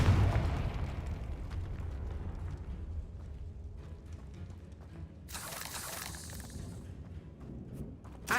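Confringo fire spell explosion in Hogwarts Legacy: a rumbling game blast over low background score, with a bright crackling burst of fire flaring up near the end.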